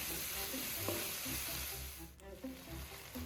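Prawn biryani masala with yogurt and turmeric sizzles loudly and continuously in the pan as it is stirred, with a few soft scrapes and knocks under the constant frying hiss.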